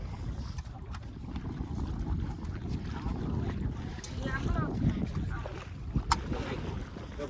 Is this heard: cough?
no